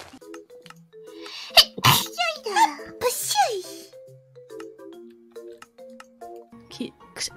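Loud, sharp sneezes from Nijisanji virtual streamers burst out twice close together amid lively, playful vocal chatter and squeaky voices.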